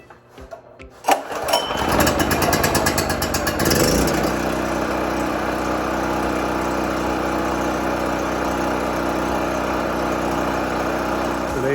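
A Champion portable generator engine is pulled to start, catching with a sputtering roar after a second, then settles into a steady, loud, continuous running hum close by.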